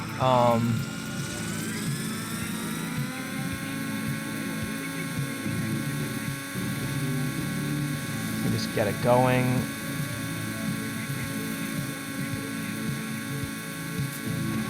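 A Bell JetRanger helicopter in the RealFlight G2 R/C simulator game starts up, its turbine winding up with a rising whine over a steady low engine hum, while someone speaks briefly in the foreground.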